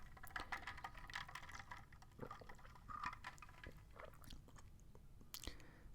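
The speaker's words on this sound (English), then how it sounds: "I have some cinnamon gum" Cinnamon gum chewed close up with soft, wet smacks and small crunchy bites in an irregular rhythm, quiet and with no talk.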